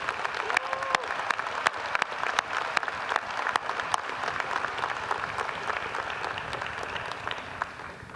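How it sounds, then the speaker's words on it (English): Graduation audience at a university winter commencement bursting into sustained applause, dense clapping from a large crowd filling the hall evenly for the whole stretch, fairly close and steady without fading. "So graduates, please join me in thanking each of them for their support with a well-deserved round of applause."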